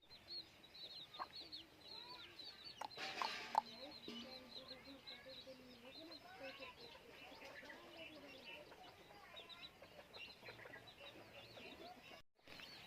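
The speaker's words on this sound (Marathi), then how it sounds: "आता ही पिल्लू आहेत" Chicks and hens cluck and peep softly and steadily in a low-cost poultry shed, with faint talk in the background.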